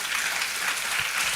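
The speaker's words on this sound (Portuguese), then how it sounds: "aplauda Jesus, pelo amor de Deus." Church congregation applauding during a sermon, a steady wash of clapping with no breaks, moderately loud and close throughout.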